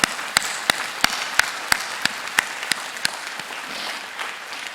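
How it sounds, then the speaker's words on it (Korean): A church congregation claps in scattered, uneven bursts, with sharp individual claps standing out over a soft murmur of hand noise that fades out toward the end. "앞뒤 좌우를 향해서 한번 박수해 주시길 바랍니다"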